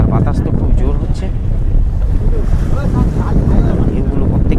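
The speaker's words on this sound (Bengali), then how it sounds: "আর বাতাস তো খুব জোর হচ্ছে" Strong wind buffets a fishing boat out at sea during hilsa fishing, a loud continuous roar with microphone rumble and splashing waves, and voices faint beneath it.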